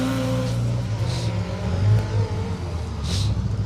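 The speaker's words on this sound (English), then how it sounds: "Dave, it's nice to hear that twin cam back in" A rally car's twin-cam engine drones and revs close by during the RAC Rally, a steady mechanical roar that swells slightly without letting up.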